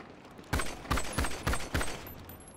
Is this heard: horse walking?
no